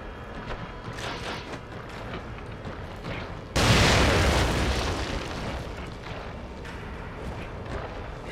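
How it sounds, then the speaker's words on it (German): A sudden loud grenade blast in The Evil Within bursts out of quiet ambience, then its roar fades slowly over a few seconds. "Granate."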